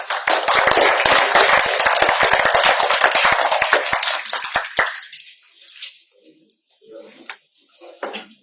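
An audience at an evening book presentation in Puno breaks into loud, dense applause for about five seconds, then it thins to a few scattered claps and quiet room noise.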